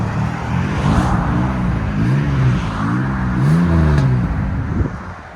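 A 2002 Chevy Camaro with a 3.8L V6 and Cherry Bomb Pro muffler idles and revs lightly, a steady, loud, close exhaust rumble with gentle rises and falls in pitch throughout, no voices.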